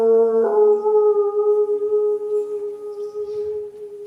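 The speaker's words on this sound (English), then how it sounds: "the old wolf sat down, pointed his face at the moon, and broke out the long wolf howl." An old wolf gives a long, sustained howl at the moon, a loud, close, wavering tone that slowly fades, heard alone with no other sounds.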